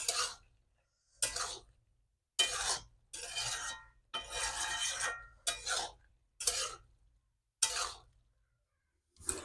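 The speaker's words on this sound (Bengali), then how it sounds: "নেড়ে চেড়ে নামিয়ে নেব।" Bottle gourd and mung dal curry stirred in a pan with garam masala and coriander leaves, heard as separate rasping scrapes of a spoon against the metal with short silent gaps between strokes.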